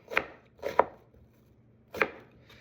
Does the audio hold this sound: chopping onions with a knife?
yes